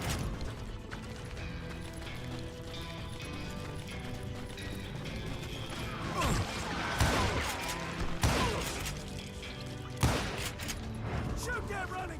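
Gunshots ring out in Red Dead Redemption 2, with a few sharp, separate cracks over a steady background of galloping horse hooves and game music.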